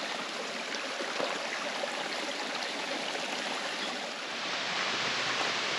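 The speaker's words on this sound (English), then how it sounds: "You can hear the wind blowing through the leaves and the trees and the water." A creek at Mt. Tabor, Vermont rushes steadily nearby with a continuous bright splashing hiss, running over rocks, and no voices.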